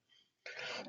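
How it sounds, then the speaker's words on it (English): One short, harsh cough from a man with a dry throat, loud and close, following a brief faint breath. "I gotta stop coughing."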